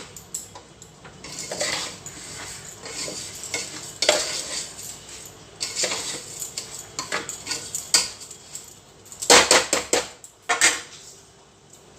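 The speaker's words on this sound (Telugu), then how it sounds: "ఇదిగోండి కలిపేస్తున్నాను ఇలాగా. కొంచెం హైలో పెట్టి" Food being stirred in a pan over high heat in a home kitchen: a utensil scrapes and knocks against the pan in irregular bursts over a soft sizzle, with a few sharper clatters near the end.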